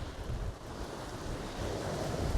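Strong storm wind buffets the microphone on a shore at Selsey while sea fishing, a steady loud roar mixed with crashing surf throughout, with no talking.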